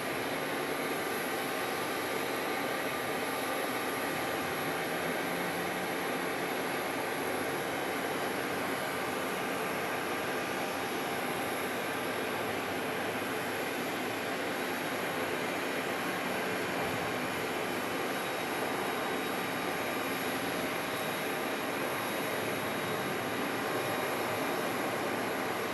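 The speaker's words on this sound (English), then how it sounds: "Next arrival, American 2426 from Las Vegas on an A321" An American Airlines Airbus A321 arrives at Phoenix Sky Harbor, a steady broad roar of jet engines rumbling continuously at moderate distance without letup, with no talk over it.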